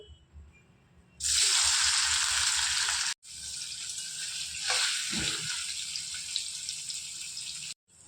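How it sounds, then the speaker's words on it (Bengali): Marinated paneer pieces hit hot white oil in a wok with a sudden loud, steady sizzle that runs for several seconds, briefly broken, then continues bubbling strongly, heard close and alone. "এটা গরম হয়ে গেছে, এবার পনিরগুলো ভেজে নেব।"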